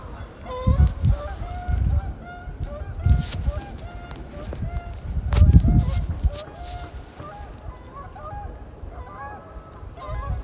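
A flock of wild geese circles overhead near Snowmass, honking steadily in overlapping calls that stay fairly close and clear, with low outdoor rumble and occasional thumps underneath.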